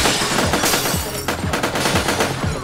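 Automatic gunfire in the game Sub Rosa rattles in fast, loud bursts, several weapons firing together in a dense, continuous volley close by.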